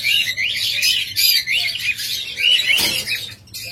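A pair of yellow lovebirds chirping close by, rapid bright high-pitched tweets and squeaks repeating almost continuously, with a brief rustle near the end and no talking.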